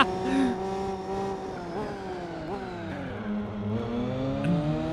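Raybrick NSX race car in Gran Turismo 4, a loud close engine whining at high revs, with pitch dips and climbs through gear changes and a brief tire squeal, under faint background sound.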